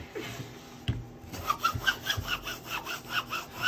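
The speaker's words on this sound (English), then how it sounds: "Then I'm turning it over and giving it a really good rub from the back" A vinyl decal pressed onto canvas and rubbed hard from the back, giving a rhythmic run of close, scratchy back-and-forth strokes after a single sharp knock.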